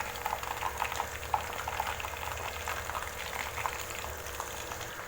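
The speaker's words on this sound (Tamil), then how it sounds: "மட்டன் குழம்பு நல்லா கொதிச்சுட்ருக்கு" Mutton curry bubbles steadily in a pot over a high flame, a soft continuous simmer of popping bubbles and light sizzle heard up close with no talk.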